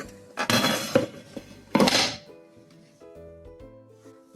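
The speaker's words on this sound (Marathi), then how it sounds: "आता केकवर एक ताट ठेवून केकचा मोल्ड उलटा करून" A plate is set on a chocolate cake and the cake mould is flipped over, making two clattering bursts of metal and crockery. Quieter background music plays underneath.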